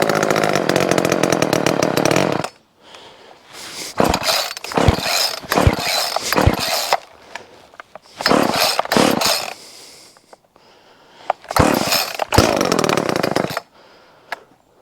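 A Homelite LX30 Bandit chainsaw engine is pull-started, with a loud burst of running at first, then repeated rattling pull-cord yanks and brief sputters separated by quiet gaps.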